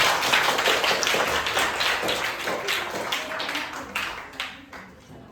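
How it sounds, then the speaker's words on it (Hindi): An audience at a Guru Nanak Gurpurab celebration claps for Sardar Inder Mohan, a steady crowd applause that holds for several seconds before thinning out toward the end. "सरदार इंद्र मोहन जी के लिए तालियां बजा दें एक बार"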